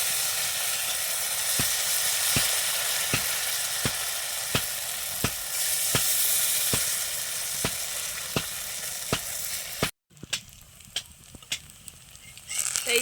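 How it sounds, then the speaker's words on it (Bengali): Garden-vegetable fritters fry in a pan with a constant hissing sizzle, punctuated by regular sharp taps about every half second. The sound cuts out briefly and then returns quieter, with sparse clicks. "দেখুন আরও একটা এই যে এইভাবে কিন্তু ভেজে নিচ্ছি"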